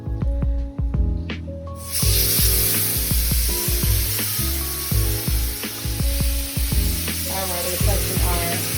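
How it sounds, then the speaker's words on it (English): Skirt steak hitting a hot grill for Chipotle-style bowls, an abrupt loud hiss that becomes a steady sizzle, with clinks and taps over it throughout. "Skirt steak on for our Chipotle bowls."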